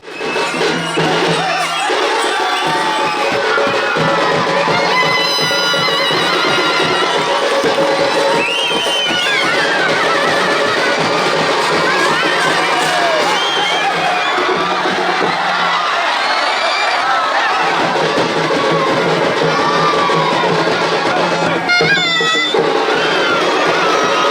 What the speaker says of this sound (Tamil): ரெண்டு பக்கமும் மக்கள் நின்று கைத்தட்டி ஆரவரம் பண்ண காளைகள் சீறி பாஞ்சு ஓடுற காட்சி இருக்கு பாருங்க